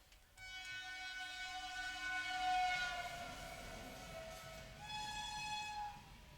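A loud, sustained train horn blares for several seconds, holds a long note, then sounds again, over the low rumble of a passing train.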